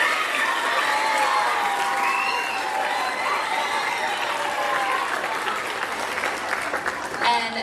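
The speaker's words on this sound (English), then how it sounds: "Round of applause for them." A school concert audience at an eighth-grade show gives a warm round of applause with some cheering, the clapping full and sustained before tapering slightly toward the end, voices mingling in the crowd.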